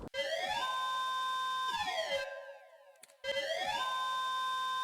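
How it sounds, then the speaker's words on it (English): Warning sirens in the visual novel game Ever17 wail in loud rising and falling sweeps, cut by a brief low pause before the tone returns. "At the next instant, warning sirens started shrieking."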